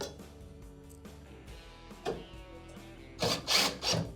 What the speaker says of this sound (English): return the two Phillips style screws that will secure that plate into place